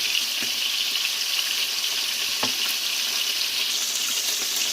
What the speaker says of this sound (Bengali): মাছগুলো আমার উল্টানো হয়ে গিয়েছে এগুলো আমি আর এক মিনিটের মতো ভেজে নিব তারপর তুলে নিব